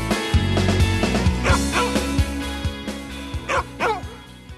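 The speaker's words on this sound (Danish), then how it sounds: "De er simpelthen fantastiske, de her hunde." Alaskan husky sled dogs at a dog-sled camp outside Røros, Norway, give a run of short, loud barks and yips, some close and some overlapping, over a steady background hum.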